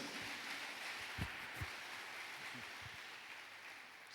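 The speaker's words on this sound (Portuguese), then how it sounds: "Dá um aplauso aí de novo a Jesus." A church congregation applauds during a worship service, a steady, hissing wash of many hands clapping heard from a distance, soft and even throughout, with a few low thumps.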